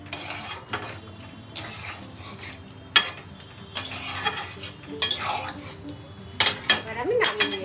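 Soyabean kofta curry stirred in a pot after ghee goes in, with a spoon scraping and clinking against metal in irregular bursts, close and moderately loud, with a brief voice near the end.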